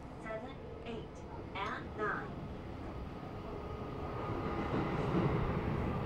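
An Odakyu Romancecar 'Metro Hakone' limited express runs through a subway tunnel past Kokkai-gijido-mae station, a steady, loud rolling rumble that builds toward the end, with a brief voice early on.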